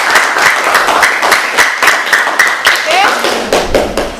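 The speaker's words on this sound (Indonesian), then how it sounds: "Kita beri aplaus." Classroom applause from a group of students after a physics lesson, steady loud clapping for about four seconds, close and continuous with a few brief voices mixed in.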